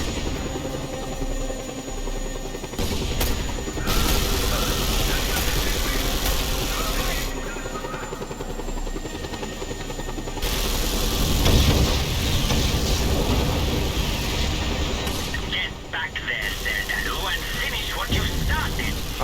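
Helicopter in a video game, with a loud, steady whirring rotor and engine drone that runs throughout and drops out briefly a few times.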